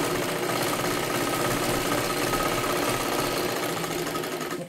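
Steady mechanical whirr of a sewing machine running continuously while topstitching the upper edge of a katori blouse, close and even throughout with no pauses.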